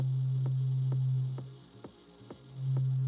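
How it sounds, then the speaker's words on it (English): A low synth sine wave drones as a steady hum, then dips much quieter while a low pass filter is applied and swells back. Faint regular clicks tick underneath. "If we play a sine wave and we apply a low pass filter to the sound"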